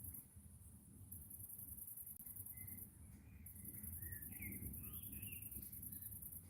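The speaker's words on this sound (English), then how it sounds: "I can hear the birds chirping" Birds chirp faintly outdoors, with a few short high calls scattered over a steady background hiss and low rumble, distant and quiet.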